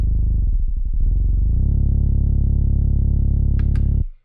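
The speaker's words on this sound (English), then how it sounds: "Next up, let's look at the 808, and it sounds like this." Deep 808 bass note from a dark beat, a sustained booming tone with a gliding pitch wobble early on, then a steady hold for several seconds before cutting off abruptly.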